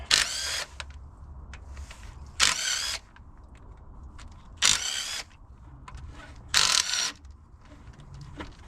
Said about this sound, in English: one of the first uses of one of my Christmas presents to myself, a DeWalt 3/8 impact to go with my 18 volt DeWalt battery ratchet.